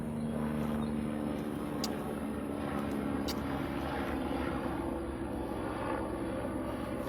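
An airplane flying overhead, a steady droning engine rumble that stays loud and even throughout, with a faint high whine above it and no voices.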